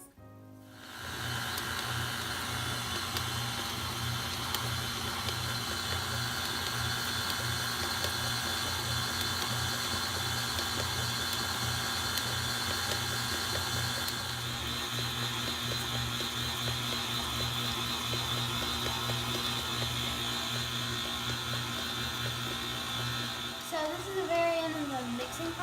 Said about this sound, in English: now that we've switched to the dough hook, we're going to use that to finish off mixing the rest of the ingredients